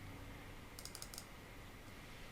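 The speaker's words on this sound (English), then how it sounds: "by hitting N on your keyboard" Several quick computer keyboard key presses in a short cluster near the middle, faint clicks over a steady background hiss during a motion-graphics editing session.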